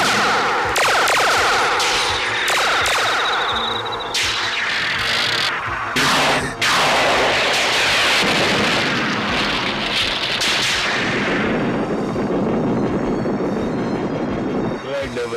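Cartoon laser fire strikes a fortress in a dense, loud barrage of zapping blasts and crackling impacts that runs without pause, with voices talking over parts of it.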